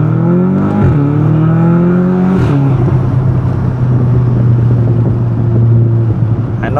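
A 2017 Audi S3 pulls hard, engine pitch climbing through the gears with brief dips at each shift, loud and close from inside the cabin, a steady roaring drone with no talk.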